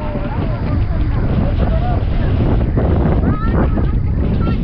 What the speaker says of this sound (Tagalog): Ang hangin! Mahangin!